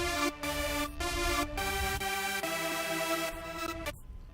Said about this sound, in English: So it's just these intro synths we're dealing with here.